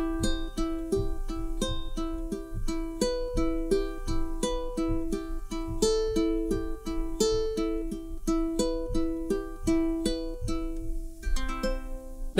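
Ukulele finger-picked at a quicker tempo, single plucked notes rolling in a steady repeating pattern across the strings, close and clear with no talking.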